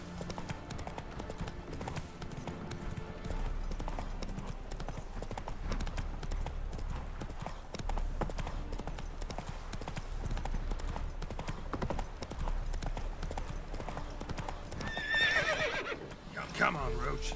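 Roach the horse in The Witcher 3: Wild Hunt trots with steady clip-clopping hooves, and near the end lets out a neigh, all beneath game ambience while someone speaks at times.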